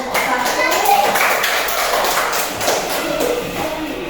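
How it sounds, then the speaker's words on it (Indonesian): Students in a classroom clap for a group after its presentation, a steady round of moderately loud clapping with scattered voices mixed in. "Beri tepuk tangan kepada kelompok 1."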